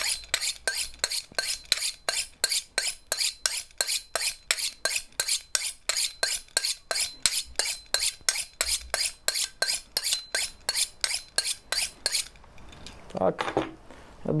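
A dull kitchen knife drawn over a honing steel in quick, even metallic scrapes, roughly thirty strokes in a steady rhythm, close and clear, ending with a brief rougher scuffle.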